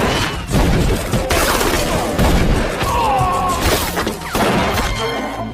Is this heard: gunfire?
yes